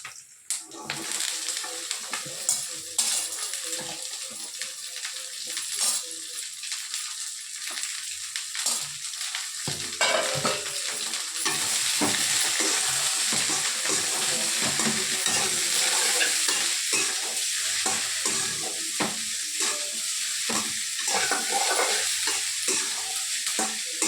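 Sliced okra sizzles in a hot pan while being stirred, a continuous crackling fry that grows fuller and louder midway, with frequent scraping and tapping of the spoon throughout.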